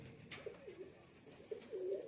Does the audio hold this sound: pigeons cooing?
yes